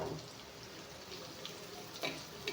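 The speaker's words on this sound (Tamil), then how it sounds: "இந்த டம்ளரில் வந்து 4 டம்ளர் தண்ணி வைக்கிறேன்." Water pours steadily from a tumbler into a cooking pot of onions with a continuous splashing rush, fairly close, and a brief louder splash near the end.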